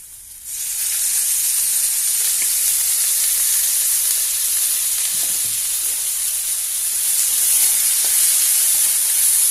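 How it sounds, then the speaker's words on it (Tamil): Pirandai sautés in oil until brown, a steady, bright hiss of sizzling that starts abruptly and runs evenly throughout with only faint stirring taps. "பெரண்டையும் அதே மாதிரியே போட்டு நல்லா பழுப்பு கலரில் நல்லா வதக்கணும்"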